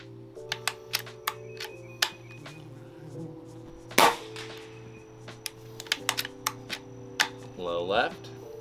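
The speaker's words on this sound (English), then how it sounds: "let's go ahead and shoot our 50 yard group" An air gun fires at a 50-yard target: a sharp, loud crack stands out midway among lighter mechanical clicks, over a faint steady background hum.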